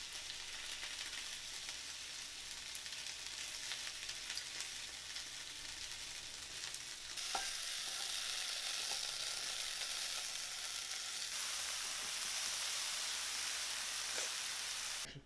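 Vegetables sizzle steadily in olive oil in a nice-sized pan, a continuous broadband hiss that grows slightly louder partway through, with no talking.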